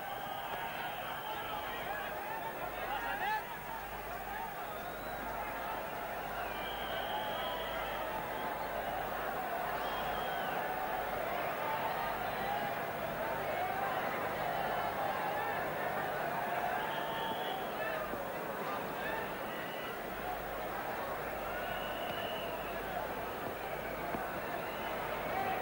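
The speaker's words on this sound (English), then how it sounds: "Certainly they've come along in a festive mood, crowd here in Mumbai." A festive cricket crowd fills a Mumbai stadium at the 1996 World Cup match between Australia and India, its steady murmur and cheering running throughout with a commentator talking over it.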